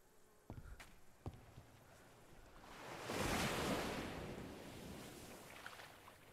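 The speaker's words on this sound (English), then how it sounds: "Why is that splashing noise?" Splashing water in a blocky Minecraft-style video game, a broad rushing wash that swells in the middle of the clip and then settles into a steady hiss, with a few sharp knocks early on.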